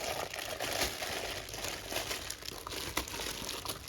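Plastic bag crinkling and rustling continuously and close up as a hardened epoxy resin pumpkin tray mould is taken out, with no talking.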